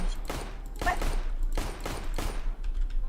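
Glock pistol fire in the CS:GO video game, several sharp shots in quick succession, spaced roughly evenly across the moment, close and loud against a steady game background.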